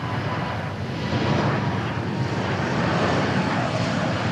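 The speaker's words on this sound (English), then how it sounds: "So here's a MAX 8 from Santa Ana." Boeing 737 MAX 8 airliner at Dallas/Fort Worth International Airport, its jet engines producing a loud, steady broadband roar that swells slightly and holds through the whole stretch, with no voices over it.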